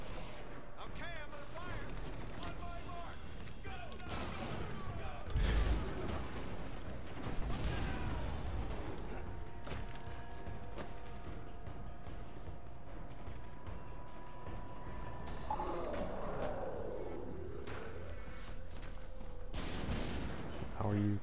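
Gunfire in the Prototype video game, a dense, busy mix of shots, bursts and explosive pops running through the whole stretch at moderate level, with game sounds layered and some voices talking over it.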